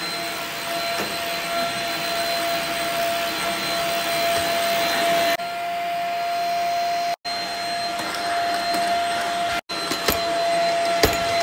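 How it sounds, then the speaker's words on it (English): A vacuum cleaner runs continuously and loudly with a steady motor whine, its tone shifting partway through as it moves across the floor, with a couple of brief cutoffs near the end. "Okay, well, hey, I guess I'll vacuum first."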